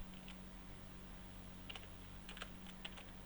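Typing on a computer keyboard while writing Python code, a few short bursts of soft key clicks over a low steady hum, faint and close.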